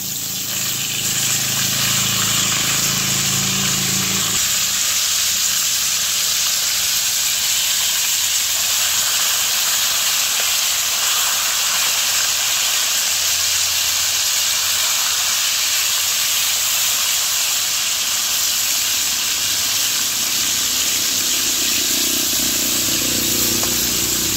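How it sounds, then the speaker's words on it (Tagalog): Salmon fish frying in a pan, a loud, steady, close sizzle and hiss throughout, with a low rumble underneath and no talk. "Ito pong piniprito kong isda."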